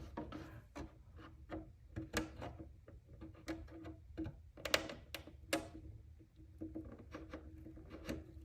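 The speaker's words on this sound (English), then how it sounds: "Curved scissors." Curved scissors snip and crunch along the wheel well of a ProLine 2017 F-150 Raptor polycarbonate RC truck body, giving a series of quiet, close, irregular cuts with no talk.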